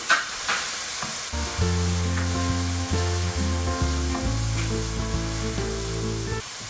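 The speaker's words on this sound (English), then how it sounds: "we stir everything" Goat meat and seasoning cubes are stirred in a pot, a steady sizzling hiss with soft scraping running the whole time under loud background music.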